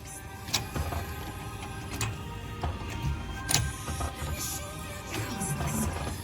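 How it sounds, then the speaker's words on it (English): A car jack raises a car for a tyre puncture repair, with repeated close metallic clicks and ratcheting knocks at an uneven pace, followed by a low creaking strain as the car lifts. "Now I need to jack up the car"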